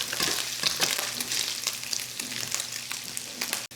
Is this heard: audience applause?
no